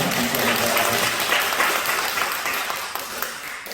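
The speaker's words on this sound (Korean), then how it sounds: "박수 한번 해주시기 바랍니다." A church congregation at a Sunday worship service breaks into warm applause, a close, dense patter of many hands clapping that holds steady and then tapers off over a few seconds.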